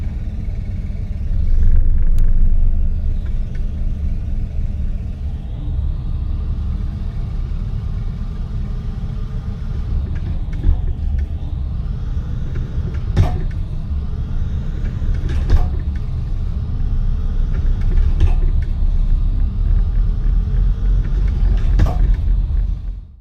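A truck with an Eaton Fuller manual transmission is put in gear and accelerated, its engine giving a loud, steady low rumble that swells and holds, with faint clunks and rattles from the cab.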